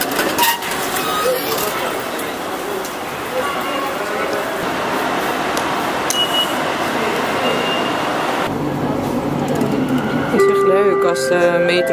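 Steady rumbling ride noise of an elevated metro train in motion in Kuala Lumpur, Malaysia, broadband and continuous, with faint speech and brief tonal chimes toward the end.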